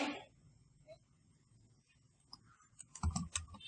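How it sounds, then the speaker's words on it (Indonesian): Keys clatter on a computer keyboard while text is entered in Microsoft Word, quiet scattered taps at first and then a denser, louder burst of clicking near the end, with no talking. "semua saya mau mengetik"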